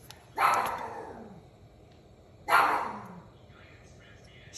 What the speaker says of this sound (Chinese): 小狗在叫。